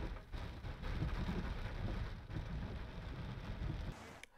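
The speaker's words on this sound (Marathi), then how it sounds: "भिवंडीलाही मुसळधार पावसानं झोडपून काढलेलं आहे" Heavy monsoon rain pours down steadily in Bhiwandi, Maharashtra, a dense, continuous roar of water hitting surfaces with faint low rumbles underneath and no voices.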